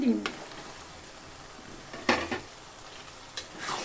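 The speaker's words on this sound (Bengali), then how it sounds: "ডিমগুলো দিয়ে একটু মশলা দিয়ে একটু নাড়াচাড়া করে নিচ্ছি।" Eggs get stirred into oily, sizzling masala in a pan for egg bhuna, a soft frying hiss broken by a few sharp clinks and scrapes of a spoon against the pan.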